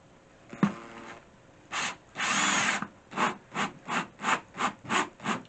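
Power drill whirring in a short rattling start, then a longer run, followed by a string of quick regular bursts as the trigger is pulsed, close and loud with no talk.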